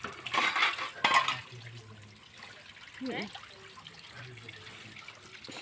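Dishes clink and clatter near a running tap, with water trickling steadily while people talk in the background.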